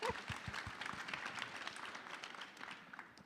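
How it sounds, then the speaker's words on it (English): A fairly faint round of audience applause at an energy tech innovation event, brief scattered claps near the start merging into soft, steady clapping from a modest crowd. "we need another round of applause for that"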